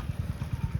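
A motorcycle engine thrums in a short, close burst with a rapid pulsing beat as a learner rider shifts up a gear.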